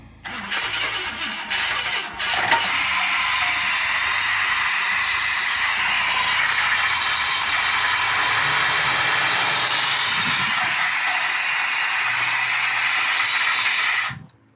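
A 1966 Ford Thunderbird barn find fires up after twenty years with a loud crank and catch, then settles into a steady, rough, hissy idle up close before cutting off at the end.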